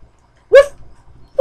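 A puppy gives two short, sharp yips about a second apart, loud and close in a quiet room, with only faint rustling between them.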